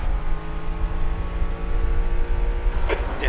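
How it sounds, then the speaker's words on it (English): A GT4 race car leaving the pits at Misano Circuit gives a steady, continuous engine drone with a low rumble, heard at moderate distance with no voices over it. "There's a car leaving the pits."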